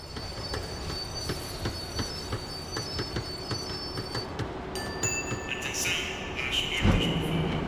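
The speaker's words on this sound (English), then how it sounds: "The tram was slowing down, and I'd only just gotten on board." A tram in Max Payne 3 slowing down, rhythmic clickety-clack of wheels over rail joints under a steady rumble, rising into squealing brakes and metallic screeches near the end, loud and close.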